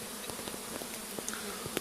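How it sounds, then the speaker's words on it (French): Worker honeybees buzz around their new hive, a dense, steady hum of many wings close by with individual bees flicking past, no voices. "toutes les abeilles que vous voyez, c'est des ouvrières qui cherchent pour pouvoir rentrer dans leur nouvelle maison"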